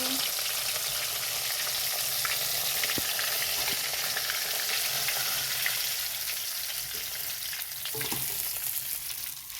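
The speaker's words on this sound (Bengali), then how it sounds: "তো এরকমভাবে সব মাছগুলোই ভেজে নেব" Pieces of rohu fish frying in white oil give a steady, close crackling sizzle with small pops throughout, no voices present.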